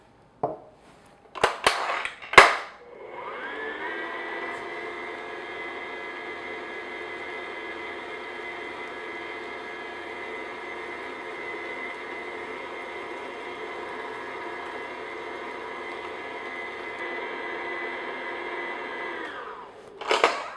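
Electric mixer running steadily on low speed as eggs are beaten one at a time into cherry pound cake batter, a sustained even whir lasting most of the time after a few brief clatters, with no talking.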